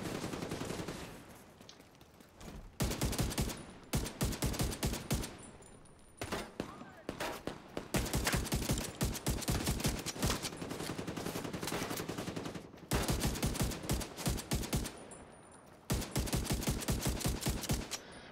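MK249 machine gun in The Division 2 firing long, loud automatic bursts with short pauses between them, rapid steady rattling over game ambience.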